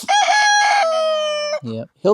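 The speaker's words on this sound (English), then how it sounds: "he is a speckled Sussex rooster" A speckled Sussex rooster gives one full, loud crow up close, a long drawn-out call lasting about a second and a half, followed by a couple of short clucking notes.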